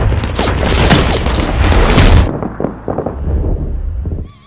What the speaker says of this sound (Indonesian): Harper, rekan Andy, sempat memohon agar pemuda itu berhenti, namun akhirnya terpaksa menembaknya